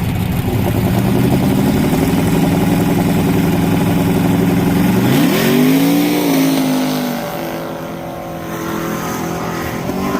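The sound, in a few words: drag racing cars on ice, twin turbo F10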